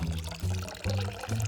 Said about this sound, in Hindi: मुझे इसे पानी देना चाहिए।